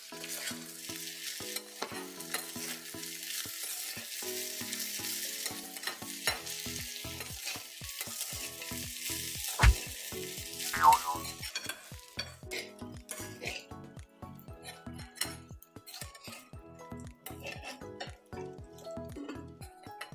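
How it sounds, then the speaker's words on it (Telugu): Sweet corn rice is mixed in a pan over a low sizzle, with a long run of rhythmic metal spoon scrapes and clinks against the pan, busy at first and then sparser, close and without speech. "ఇప్పుడు దీన్ని చక్కగా కలిసేలాగా కలుపుకోవాలి"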